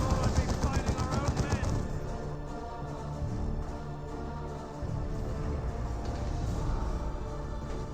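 Rapid gunfire aimed at a heavy weapons team in the strategy game Dawn of War 2, dense bursts of shots and impacts layered over battle noise, fairly loud and continuous.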